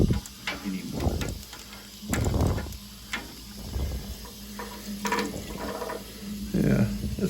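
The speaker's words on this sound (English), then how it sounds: "We're going to use a little bit of water pressure, knock it, and we're going to rinse this off." Water sprays and splashes steadily while boiler parts are rinsed during maintenance on a Weil McLain Ultra, with clattering knocks and people talking over the running water.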